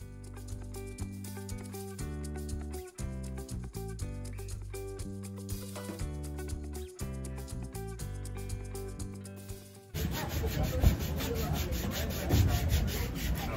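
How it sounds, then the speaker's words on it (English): Hand-worked wood rasps and scrubs in a woodworking area in Nassau, Bahamas, a dense, continuous rubbing close by over the final few seconds, right after a stretch of music. "There was a woodworking area where a lot of them were working on their product."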